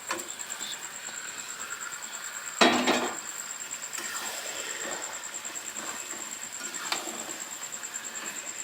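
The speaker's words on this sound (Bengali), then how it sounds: "এবার ভেজে রাখা মাংসটা উপর থেকে দিয়ে দিচ্ছি" Fried chicken pieces drop into hot oil in a pan with one sharp clattering burst, then a low sizzle carries on under a few light metallic ticks and clinks, close by and with no voices.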